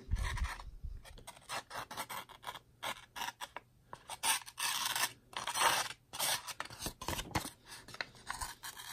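Repeated dry scraping and rasping strokes of a knife blade slicing through a stiff Post-it note, close and crisp, coming in quick irregular bursts with short pauses.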